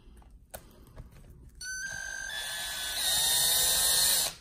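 A power tool whirs on the screws of a Losi 8ight-T RC car, preceded by a few small clicks and handling knocks, then a rising, steady motor whine that grows louder before cutting off.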